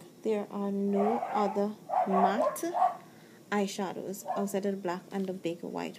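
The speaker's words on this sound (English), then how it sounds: "And I do apologize for the dogs barking outside." Dogs bark outside in the background, muffled and distant, while a person talks steadily over them throughout.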